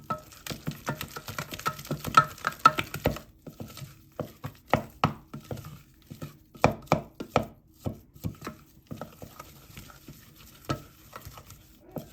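Choux pastry dough being mixed by hand after adding an egg, giving irregular wet slapping and stirring strokes, close and fairly quiet, in bursts with short pauses.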